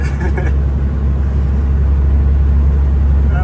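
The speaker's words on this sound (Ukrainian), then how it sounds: "Вольво газує як має бути." A Volvo truck's engine, heard from inside the cab of a 20-tonne long-haul rig, produces a loud, steady low rumble that runs throughout while people talk over it.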